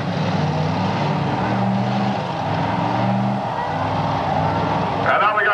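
Cars at a demolition derby, with a continuous loud engine roar and revving throughout, a rough grinding metallic scrape near the end, and a voice talking over the noise.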